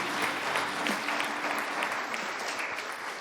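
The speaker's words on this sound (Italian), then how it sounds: "Un applauso." Steady applause from a crowd at a youth football team presentation, continuous and fairly loud for the whole stretch with dense clapping throughout.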